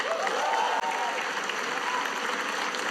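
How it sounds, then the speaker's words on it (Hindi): Sustained applause from a live stand-up comedy audience fills the room, dense and steady clapping without a break. "थोड़ी तालियां हमारे ओपनिंग एक्ट के लिए भी।"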